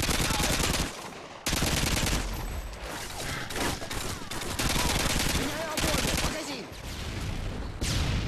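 Dense, sustained video game gunfire in a team shooter match: rapid automatic bursts and volleys fill most of the clip, with two short breaks, loud and close throughout.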